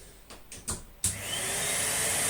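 A Numatic Hetty HET200 vacuum cleaner, found dumped by some bins, whirs up after a few faint clicks and then runs with a steady, loud motor drone close by.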